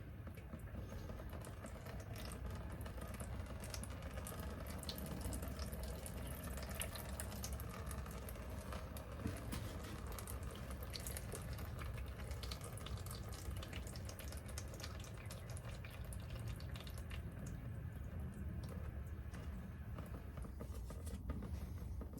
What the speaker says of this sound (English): And then I'm going to give it some more water.